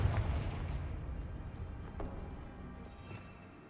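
A fire spell blast from Hogwarts Legacy booms out at once, a heavy, loud explosive burst that rumbles and slowly fades, with a brief crackle near the end and no voices.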